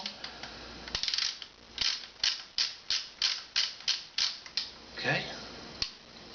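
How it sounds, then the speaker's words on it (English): An end cap being screwed back onto the barrel of an H&R Pardner Protector shotgun, a run of about a dozen evenly spaced ratcheting clicks up close, with a brief spoken word near the start. "Take the end cap, screw it back on."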